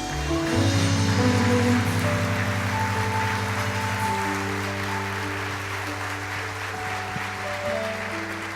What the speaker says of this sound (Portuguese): Aplauda o nome do seu Senhor